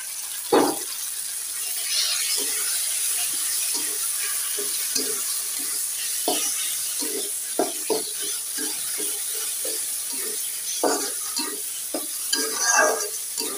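Taro greens frying in oil, a sustained sizzle overlaid with frequent knocks and scrapes of stirring, some louder splashy bursts near the end.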